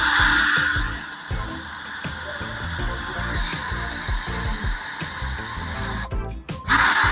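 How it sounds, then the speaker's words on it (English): A power drill with a worn, dull bit grinds into a wall at an existing hole, a loud continuous rough whine with shifting pitch. It cuts out briefly near the end, then surges again. "I'm going to drill like where there's already a hole in the wall so I don't mess my drill bit up"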